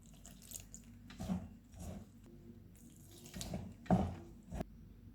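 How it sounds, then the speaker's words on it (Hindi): Lukewarm water poured in small amounts into a flour and yeast dough mixture for cheese burst pizza, giving quiet, intermittent splashing and trickling bursts close by. "अब इसमें थोड़ा थोड़ा नीम गर्म पानी डालेंगे।"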